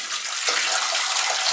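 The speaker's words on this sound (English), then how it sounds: "I'll put some hot water in this pan and get it started" Hot water pours steadily from a tap into a cooking pan in a home kitchen, a continuous close gushing hiss with no talk.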